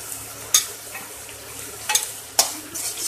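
Tomato masala gravy for chole, seasoned with red chilli powder, sizzles gently in a pan, broken by a few sharp scraping clinks of a spoon against the metal as it is stirred, nearby and without speech.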